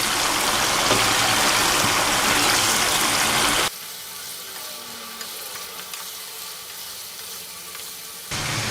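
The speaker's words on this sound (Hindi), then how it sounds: "पहले इसको इस ऑयल के अंदर फ्राई करेंगे अच्छे तरीके से।" Desi chicken fries in about a litre of oil in a karahi, giving a loud, rushing sizzle that drops to a quieter crackle midway before surging loud again.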